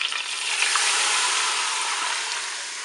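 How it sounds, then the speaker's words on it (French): Water poured into a Cookeo electric pressure cooker holding chicken pieces, a steady hissing splash and sizzle for a few seconds, close and fairly loud. "je vais ajouter mon eau"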